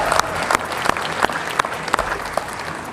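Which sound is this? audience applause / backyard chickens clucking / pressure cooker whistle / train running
audience applause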